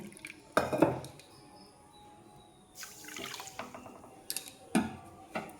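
Water is poured into a pot to make sugar syrup for a rice sandesh, splashing in short bursts amid clinks and knocks of dishes and utensils at close range.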